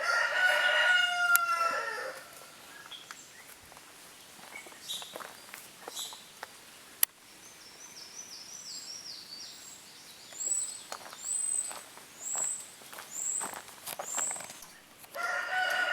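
Chickens cluck and a rooster crows nearby, with a series of short rising calls repeating through the middle and some rustling in between.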